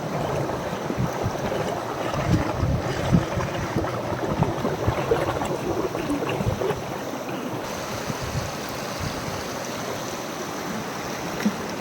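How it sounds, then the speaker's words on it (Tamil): Water churns through a large whirlpool in a stream, making a steady, full rushing and gurgling roar that holds unbroken throughout. "நீரோடையில் ஒரு பெரிய சுழி உள்ளது சுழியில் ஒரு குச்சியை போட்டு பார்ப்போம் அதை இழுத்து கொண்டு போய்விட்டது"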